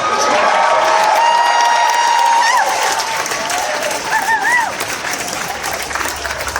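A graduation crowd at the Pitzer 2012 commencement applauds loudly and steadily, with a few high whistles and cheers rising out of the dense clapping throughout.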